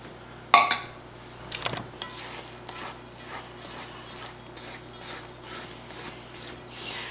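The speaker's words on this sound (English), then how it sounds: "Get a good stiff spoon and start stirring." A stiff spoon works through homemade pizza dough in a bowl, giving a clatter of metal against the bowl at first, then a steady rhythm of soft scraping, knocking strokes, close and moderately quiet with no talking.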